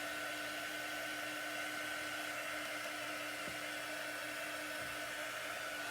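A handheld hair dryer blows continuously to dry a chalk paste transfer on a craft surface, a steady close whirring rush of air with a constant motor hum and no talking.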